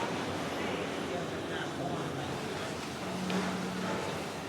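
Ocean waves wash steadily onto a beach in Montego Bay, Jamaica, a continuous broad roar of surf with some wind rumble and no distinct breaks.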